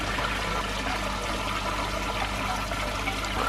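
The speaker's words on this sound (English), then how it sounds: "Just filling up a bit now through the carbon filter, so no tap water going in now" Water running steadily into a koi pond through a carbon filter, a constant rushing pour and trickle that stays loud throughout with no talking.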